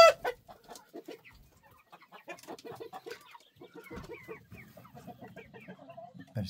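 A rooster clucks inside a chicken coop, giving a steady run of close, fairly loud clucks and short calls, with other fowl sounds mixed in and no talking.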